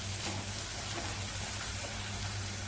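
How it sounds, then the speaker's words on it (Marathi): Ground masala paste frying in oil, giving a steady, close sizzle with a low hum under it and no voices. "आणि वाटून घेतलेला सगळा मसाला घालूया. चांगला तेलावरती परतवून घ्यायचा."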